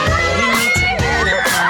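A crowd of fans shouts and cheers in the street around a pop star, with loud overlapping voices, whoops and screams close by throughout.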